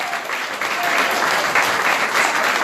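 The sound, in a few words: audience round of applause for the committee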